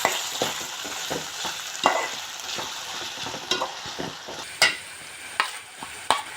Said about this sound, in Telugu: వంకాయ ముక్కలు వేసుకుని మగ్గబెట్టుకోవాలి.